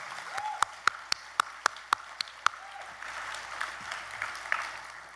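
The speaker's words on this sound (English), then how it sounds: "Give them applause." A small group of listeners at a Native American nutrition conference gives light applause: several sharp, separate claps ring out in quick succession, then soften into a faint, scattered patter.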